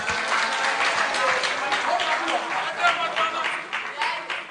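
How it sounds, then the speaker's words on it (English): Audience applause after a speech at a national youth parliament mock sitting, a sustained wash of clapping with a few cheers, moderately distant and steady. "Another round of applause for the Honorable Eric Edem-Agbana"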